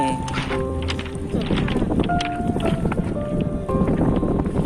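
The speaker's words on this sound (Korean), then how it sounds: "물결이 몽돌을 때리는 소리" Sea waves wash over and strike rounded pebbles on a pebble beach at Geoje, giving a steady dense rattling and rushing wash close by, with wind noise on the microphone.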